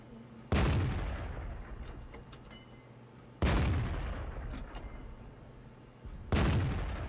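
An E-25 tank destroyer fires its cannon in the World of Tanks game, three heavy booming shots spaced about three seconds apart, each a sharp blast trailing into a long rumbling decay, with no talking.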